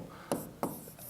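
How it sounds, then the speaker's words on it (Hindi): Letters written by hand during a reasoning practice lesson, heard as two quick, distinct pen strokes close by with soft scratching between them, quiet and with no talking. "देखिए मैं ये लिख रहा हूँ"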